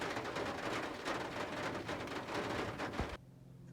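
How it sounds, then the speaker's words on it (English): Pouring rain roars in a thick, continuous wash of noise, then cuts off abruptly near the end, leaving a much quieter background. "it started to rain and it's pouring."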